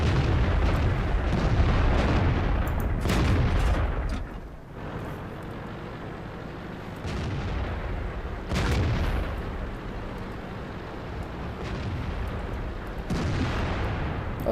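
Tank cannon shots and explosions from the World of Tanks video game as rounds hit a Panzer: several loud booming blasts with rumbling decay, spaced irregularly over a steady battle din, without speech.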